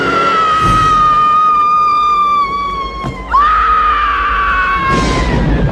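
A woman's piercing scream of shock from a horror film scene, one long sustained high-pitched shriek that wavers, briefly breaks, then surges again loud and close.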